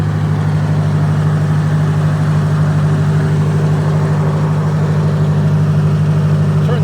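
A 1953 Ford NAA tractor engine runs steadily after a cold start, a loud, close, even low drone with a constant hum and no change in pace.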